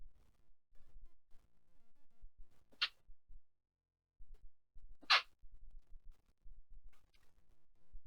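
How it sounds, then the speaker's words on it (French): Two small, sharp sneezes, the second stronger, come from one person close by, set apart by quiet stretches with faint rustling and breathing. "Excusez-moi, des petits éternuements."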